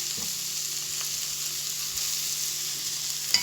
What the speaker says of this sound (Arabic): انا يا دوبك بشوح البصلة ما بحمرهاش